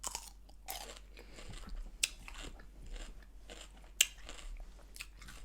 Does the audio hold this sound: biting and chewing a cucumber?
yes